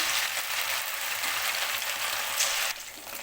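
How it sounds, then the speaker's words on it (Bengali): Chicken pakoras, marinated with ginger, garlic and black pepper, fry in hot oil with a steady, bright hiss that runs unbroken and eases slightly near the end. "পকোড়াগুলো আমার লাল লাল করে ভাজা হয়ে যাচ্ছে"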